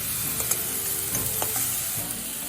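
Ash gourd sizzles in a pan as turmeric and salt are stirred through it, a steady frying hiss broken by several sharp scrapes of the spoon, close and with no talking.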